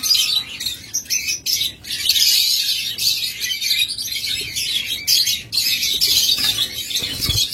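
A master pair of lovebirds chirps continuously at close range, giving rapid shrill twitters and squawks in dense bursts with only brief pauses.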